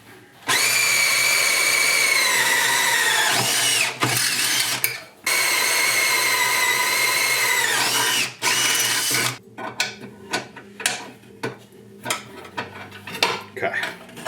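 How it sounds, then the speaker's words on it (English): A power drill whines loudly in long sustained bursts, boring new holes for battery hold-down rods on a 2006 Club Car DS 48-volt electric golf cart, then gives way to metallic clatter and handling noises. "I'm going to just drill new holes"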